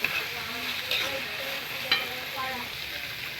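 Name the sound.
chicken frying in a pan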